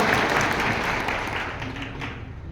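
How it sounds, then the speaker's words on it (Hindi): A crowd at a political campaign gathering claps to welcome a speaker, a dense, loud burst of applause that gradually thins and fades over a couple of seconds. "जोरदार ताली के साथ स्वागत करें"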